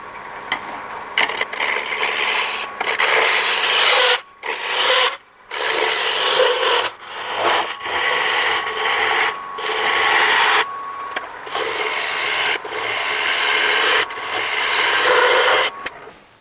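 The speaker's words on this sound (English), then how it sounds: "Let's try a shear cut here." Turning tool taking a shear cut on a wood lathe, making a loud, steady rasping cut that breaks off in short pauses between passes and then resumes; no voices.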